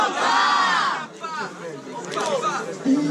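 A large crowd at a rap battle in Guarulhos, Brazil roars, cheers and shouts loudly and continuously, with a burst of yelling fading into scattered hollers and chatter.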